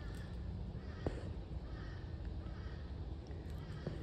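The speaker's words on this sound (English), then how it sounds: "Oh, I can hear the crows. They are arriving." Crows caw faintly in the distance, a couple of short calls over a steady outdoor hiss.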